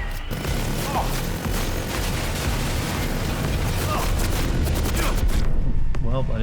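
Small arms fire against a tank in Cyberpunk 2077: Phantom Liberty, a sustained loud fusillade of shots mixed with heavy booms and mechanical rumble, continuous throughout, with a few brief voiced shouts.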